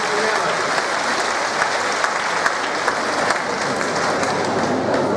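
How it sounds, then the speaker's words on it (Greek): Warm applause from an audience at a formal ceremony with a bishop present, a steady dense wash of many hands clapping, loud and continuous throughout with no talk. "ένα θερμό χειροκρότημα σε ένα τέτοιο καλό πίμνιο"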